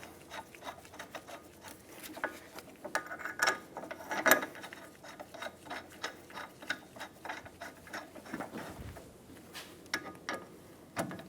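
A hand ratchet clicks in short uneven bursts while control arm bolts are snugged on an Infiniti G35 lower control arm, close metallic pawl clicks with brief pauses between strokes.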